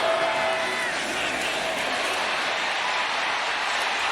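Football stadium crowd at a college game between Alabama and South Carolina roaring steadily, a dense, loud wall of cheering that holds without a break.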